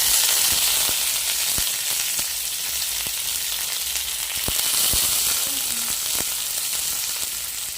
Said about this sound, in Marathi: तडका देण्यासाठी आपण आधी 1 चमचा राई, त्यानंतर कढीपत्ता